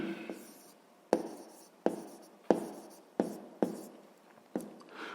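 A pen writes down a math solution on paper in sharp strokes, about seven quick taps and scratches spaced roughly half a second to a second apart, close and quiet, with no talk.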